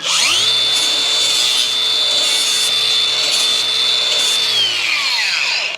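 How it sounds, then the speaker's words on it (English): A spinning flap disc grinds the edge of a plastic vent on a Kawasaki KRX side-by-side: a loud, steady high motor whine with harsh abrasive rasp that winds down at the end, close and alone. "I'll also grab my flap disc."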